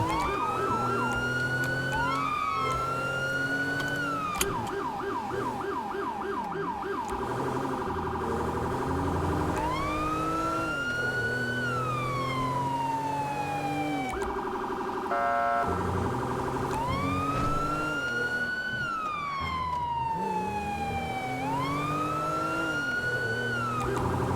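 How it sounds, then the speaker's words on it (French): Police car sirens in a FiveM game wail continuously, several rising and falling tones overlapping in repeated sweeps, loud and steady throughout with no talking. "je vous ai fait écouter un peu les sirènes"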